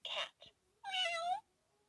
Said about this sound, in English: The cat meows and purrs. Cat. Meow.